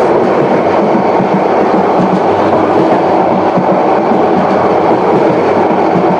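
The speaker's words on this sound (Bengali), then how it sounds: "আমাদের ট্রেন প্রবেশ করেছে আখাউড়া জংশন" The Subarna Express rumbles loudly and steadily through Akhaura Junction on its Chattogram to Dhaka run, with continuous wheel and carriage clatter and no voices.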